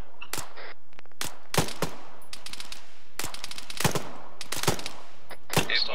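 Suppressing gunfire in Arma 3 during a night firefight: rapid bursts of automatic rifle and machine-gun fire crack sharply again and again in quick clusters, loud and near, with brief pauses between volleys.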